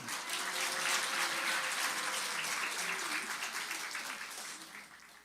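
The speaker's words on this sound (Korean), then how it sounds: "박수로 우리 환영하겠습니다" Steady, fairly faint applause from a church congregation welcoming a new pastor at an installation service, a continuous wash of many hands that holds evenly and tapers slightly at the end.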